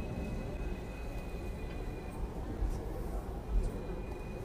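A double-decker tram rides through Hong Kong Island, giving a steady low rumble with a faint high whine running underneath and a couple of soft rail knocks.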